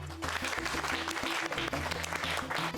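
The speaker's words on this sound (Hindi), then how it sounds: "बजाओ ताली।" Applause from a crowd clapping steadily and loudly in a neighbourhood setting, layered with music throughout.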